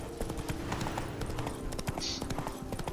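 A horse gallops in The Witcher 3 video game, steady rapid clip-clop of hooves running close and fairly quiet, continuous for a few seconds.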